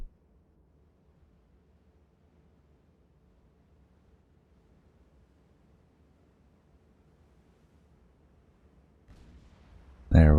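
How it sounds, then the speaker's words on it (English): Naval artillery gunfire in the warship game Ultimate Admiral: Dreadnoughts: after a long quiet lull, a low rumble builds and ends in a sudden loud, heavy blast. "Gunfire."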